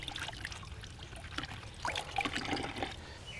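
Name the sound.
water running off paint brush being rinsed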